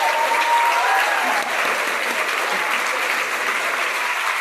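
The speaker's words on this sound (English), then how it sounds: "Let's give them all a big round of applause" Audience at an anniversary gala clapping, a dense, loud, sustained round of applause that slightly dips midway and carries on evenly to the end.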